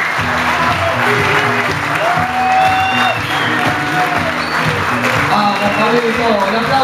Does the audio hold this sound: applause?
yes